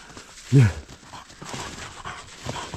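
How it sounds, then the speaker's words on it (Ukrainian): A dog barks once, loud and close, in a forest of fallen birches, followed by faint rustling and footsteps. "Воно гавкує так, що нас чутно за декілька кілометрів."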